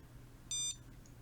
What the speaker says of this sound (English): It beeps once in a while, like every 20 seconds for the initial alarm.